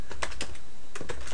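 Quick bursts of keystrokes on a computer keyboard, several close crisp clicks in a short run with a brief pause in the middle, nearby and alone.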